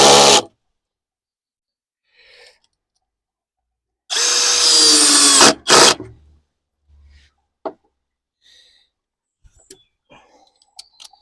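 A Dong Cheng 20V brushless impact drill drives screws in two bursts: a short whir at the start, then a longer, louder run followed by a quick second spin, with faint clicks in the quiet afterward.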